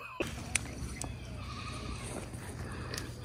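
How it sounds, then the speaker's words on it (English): Goats on a homestead farm in South Carolina give a few short, fairly faint bleats over quiet background murmur, with speech-like voices present. "Even the goats will welcome you."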